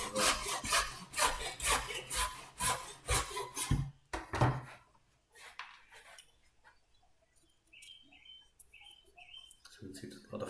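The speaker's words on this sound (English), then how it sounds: "So you can see there's a lot of filing to be done on that piece as well." A file rasps back and forth across a wooden picture frame piece in about ten loud, rhythmic strokes, then gives way to quieter, scattered scraping and light handling noises.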